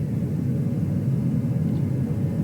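A helicopter sits on a ship's flight deck during the Artemis II recovery, giving off a steady, dense low rumble that holds even and unbroken throughout.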